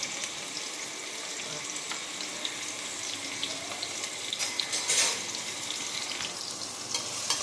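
Two large onions frying in a pan until golden for a Kumbakonam-style prawn biryani, a steady close sizzle with faint stirring clatter and a brief louder burst midway, no voices.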